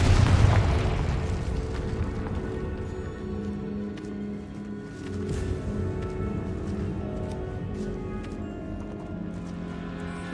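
Confringo explosive spell in Hogwarts Legacy on PS5: a loud booming blast at the start that decays into a long rumbling, echoing tail, with game ambience and faint hoof-like clatter beneath.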